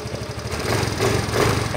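A Yamaha Mio i 125 scooter engine fires up and runs with a quick, buzzing small-engine patter, heard close and steady for a brief moment.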